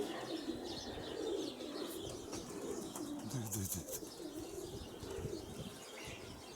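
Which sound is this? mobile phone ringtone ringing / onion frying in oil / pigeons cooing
pigeons cooing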